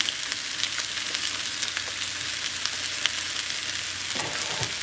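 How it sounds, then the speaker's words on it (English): Rice and broccoli fry in a big skillet, giving a constant loud hissing sizzle with light scraping as the food is stirred, steady and close with no voices. "I'm gonna throw my rice in that big skillet. And then I'm gonna go ahead and put my broccoli in there."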